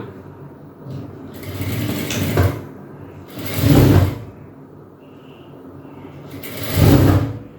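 A sewing machine stitches a straight seam on a pair of shorts in three loud bursts of rapid whirring, separated by quieter pauses with faint mechanical handling, heard close and alone.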